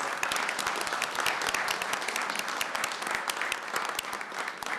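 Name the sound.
round of applause at city council meeting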